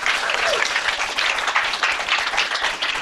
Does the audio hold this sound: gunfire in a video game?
no